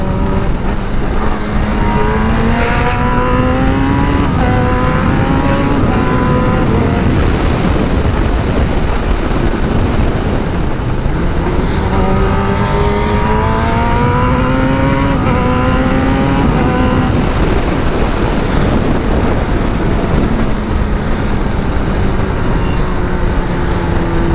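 A Kawasaki ZX-10R sport motorcycle with a GP-shift quickshifter revs hard and climbs through gears, its pitch dropping sharply at each quick shift, loud and continuous with wind roar.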